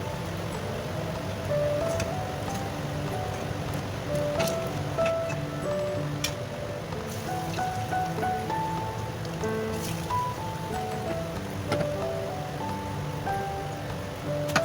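Chire pithe, rice cakes with patali gur, fry in hot oil with a continuous fine bubbling crackle and scattered ticking pops, steady and close, with no talking.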